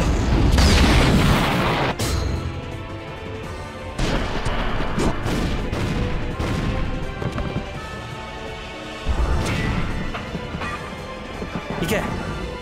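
A Joker Grenade finisher from Kamen Rider Battride War bursts in repeated loud booming explosions and crashes, several heavy blasts spaced across the clip over a continuous game soundtrack with voices.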